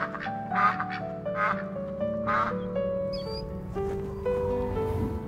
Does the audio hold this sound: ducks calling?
yes